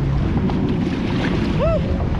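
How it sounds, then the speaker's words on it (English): Kayak out on ocean waves off Playa del Carmen, with steady wind buffeting and water sloshing around the hull, a dense continuous wash close to the microphone and a brief faint whistle near the end. "We're kayaking, guys!"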